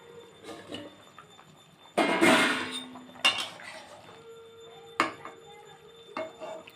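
Metal lid lifted off a pot of potatoes simmering for a rohu fish and cauliflower curry, giving a sharp clink and clatter near the mic, followed by a few lighter knocks against the pan.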